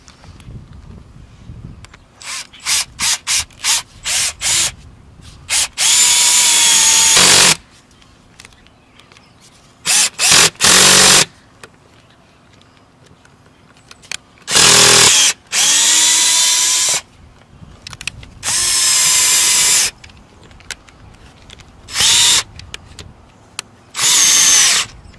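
A power drill in driving mode bores into a roof while solar panels are mounted, with quick trigger taps followed by several long sustained whirring runs, loud and close, separated by quiet gaps.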